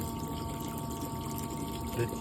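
A submersible pump runs in the water of a hot tub being preheated by a wood-fired pool heater. It gives a steady, close hum and watery churn with no breaks, and a voice talks over it.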